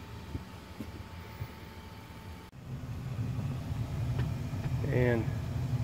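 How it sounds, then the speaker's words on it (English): A newly installed blower motor in an attic HVAC furnace unit with propane heat starts up partway through, and a low, steady rumbling hum rises and then holds, fairly quiet beneath faint background noise. "And the motor turned on, new motor."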